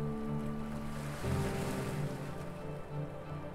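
Ocean waves wash and roll in a steady, dense surge, with a low tonal hum and wind noise running underneath throughout, fairly loud and continuous with no talking.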